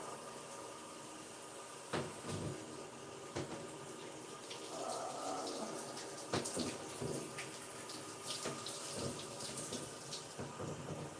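Shower water runs steadily in a bathroom through a short shower, a continuous broadband hiss with a few brief knocks and splashes, alone with no talking.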